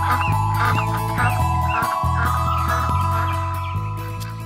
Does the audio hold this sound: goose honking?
yes